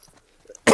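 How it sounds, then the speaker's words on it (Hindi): A single loud, harsh cough bursts out at the very end, after near silence with faint game ambience, in The Last Of Us Part 1 gameplay. "ऊपर से ये खांसी कसम से कुछ करने नहीं देती।"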